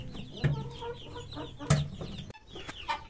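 A Sebright hen clucks in short repeated bursts near the microphone, with a few sharper calls standing out among softer chicken sounds and chicks peeping.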